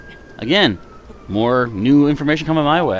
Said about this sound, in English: There's a police car? Or I think that's a fire truck outside.